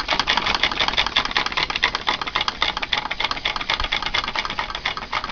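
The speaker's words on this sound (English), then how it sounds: "Right, here's my first working Stirling engine." Small homemade Stirling engine running, giving a rapid, close mechanical ticking and clattering in a slightly uneven rhythm, with no voices.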